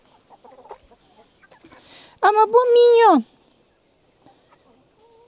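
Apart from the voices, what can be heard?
chickens clucking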